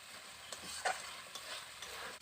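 A ground poppy seed and mustard paste is sautéed in a pan for a village-style potato and pointed gourd dish, giving a soft, close sizzle with faint scraping stirs.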